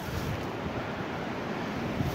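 Strong wind buffeting a microphone on an open farm field during metal detecting, a continuous loud rumbling roar with heavy low buffeting and no voices.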